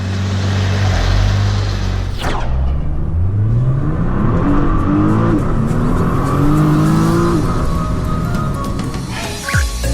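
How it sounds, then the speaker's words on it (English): A Nissan GT-R sports car engine roars loudly up close, revving through rising pitches as it accelerates, with a sharp whoosh and tire noise around it. "provide him with the visitor's car, a Nissan GTR"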